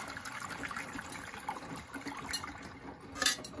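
Water runs into and sloshes around a plastic detergent bottle as it is rinsed, a soft continuous trickle and splash with a brief louder gush toward the end.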